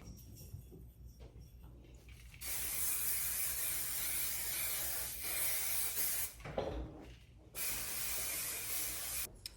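Several bursts of aerosol hair product spray hiss close by, long steady sprays broken by short pauses, with a softer rub between them.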